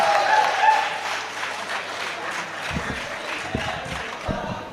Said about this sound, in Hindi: पुरजोर तालियों में इस्तकबाल करें